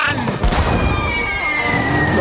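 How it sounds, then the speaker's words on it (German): Cartoon pirate cannon firing a cannonball: a booming blast followed by a whistling tone as the ball flies through the air, set against a busy background. "Kanonenkugel abfeuern!"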